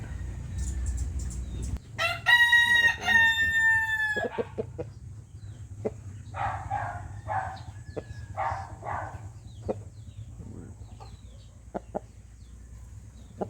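A large rooster crows once, loud and close, and lower clucking from farm fowl follows against a steady background hum.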